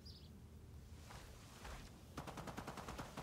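Gunfire rings out in the multiplayer shooter game Sniper Elite 5. Faint, distant shots are followed by a rapid burst of automatic fire near the end.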